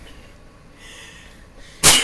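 A single sharp sneeze bursts out near the end, close and loud after a stretch of quiet room tone.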